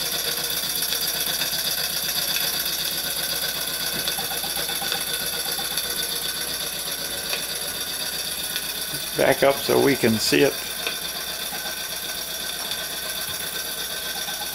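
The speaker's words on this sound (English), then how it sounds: "Just runs as smooth as can be." A Jensen 51 toy steam engine runs with a smooth, steady mechanical whir and rapid ticking throughout, near and even, with brief voices in the middle.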